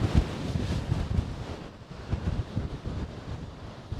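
Wind and waves on the beach at Portrush, where rough surf rumbles and washes under gusty wind buffeting the microphone, loud at first and then easing slightly, with no voices.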